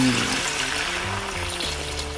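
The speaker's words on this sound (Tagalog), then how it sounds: "Tapos, buhusan natin itong sabaw." Broth poured from a pot over pork trotters (pata ng baboy) for sinigang na balbacua, a steady broadband liquid rush with low bubbling underneath, close and continuous, no talking.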